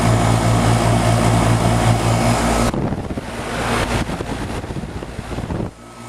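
A 3-ton air conditioner condenser unit that is not cooling runs with a steady, droning fan hum up close. The hum cuts off partway through, leaving softer, gusty outdoor noise.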